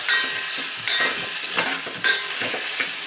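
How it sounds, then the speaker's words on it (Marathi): Drumstick pods stir-fried in oil in a pan, rhythmic scraping strokes of a spatula every half second or so over a bright, close sizzle, with no voices. "ह्या शेवगा सुद्धा साधारण तीस ते चाळीस सेकंद थोड्याशा आपल्याला तेलामध्ये परतवून घ्यायचे आहेत"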